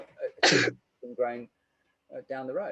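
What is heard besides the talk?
sneeze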